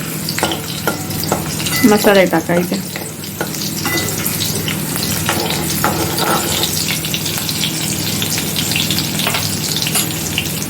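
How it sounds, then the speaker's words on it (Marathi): Crushed garlic fries in hot oil for a tempering for spicy horse gram amti, a steady close sizzle with sharp stirring scrapes near the start, and someone speaks briefly over it. "आता मी ठेचून लसूण घेते त्याची फोडणी तयार करते"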